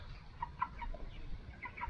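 Chickens in a poultry shed give several short clucks, spaced out over a low, steady murmur of the flock.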